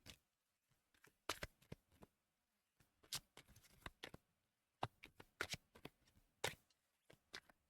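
Oracle cards are shuffled in quiet, close bursts of crisp riffling and slapping, spaced by short silences over several seconds.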